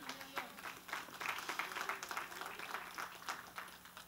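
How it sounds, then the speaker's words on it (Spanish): A church congregation applauds for the Lord during a Sunday sermon, a faint, distant wash of many hands clapping that holds steady throughout. "Den un aplauso al Señor."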